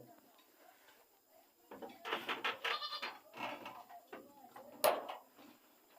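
Goat bleating during construction of a shelter and raised bed for three kept goats, several short cries in the middle and a sharper one near the end, heard over faint background talk and movement.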